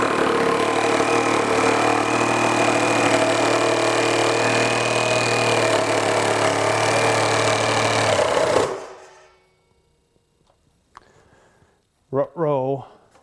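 A RIDGID R8647 18V brushless reciprocating saw fitted with a Bosch blade in orbital mode cuts through sticky pine, a loud, steady, close buzzing for about eight seconds that stops abruptly, leaving quiet broken by brief talk.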